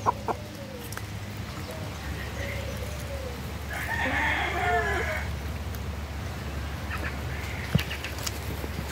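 Laying hens cluck and a rooster crows in a farm chicken yard, the crow rising in the middle over steady background clucking and yard noise, fairly close, with no one talking.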